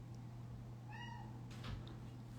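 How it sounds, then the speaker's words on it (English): A house cat gives a single short meow at a distance, faint beneath a steady low hum of room noise, with no talking in the moment. "Sorry for my cat in the background."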